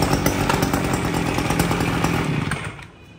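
A large-bore chainsaw, one of several secondhand saws up for clearance sale, roars close and loud at a steady high rev, then its engine note drops away near the end.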